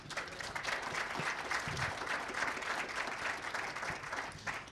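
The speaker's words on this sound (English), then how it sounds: "So a round of applause for our panelists." Steady applause from a crowd for a panel discussion, continuous and even throughout with no voices standing out.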